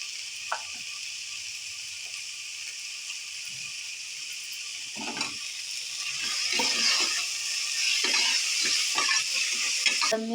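Chopped tomatoes frying with onion, mint and coriander in a pan for egg biryani, a continuous bright sizzling hiss that swells louder toward the end, with occasional soft stirring knocks.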